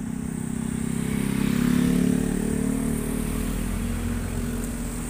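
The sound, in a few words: four-wheel vehicles passing on cleared forest road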